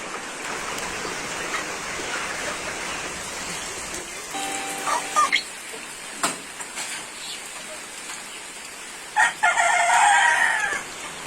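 Chickens on a poultry farm shed cluck steadily under broad background hiss, with a rooster crowing clearly several times in the middle and again louder near the end.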